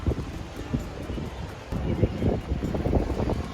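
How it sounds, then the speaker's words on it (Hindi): Strong gusting wind before rain in Bangalore buffets the microphone with low rumbling roar and rustle, rising louder midway, while someone briefly speaks. "बारिश आने वाली है, बहुत ही तेज हवा स्टार्ट हो गई है"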